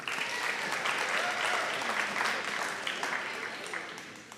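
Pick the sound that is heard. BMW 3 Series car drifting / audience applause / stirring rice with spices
audience applause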